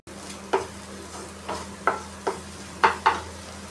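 Spices are mixed while frying in a pan, with a low steady sizzle broken by six sharp scraping strokes of a spoon against the pan. The strokes come at uneven intervals, close, with no talking.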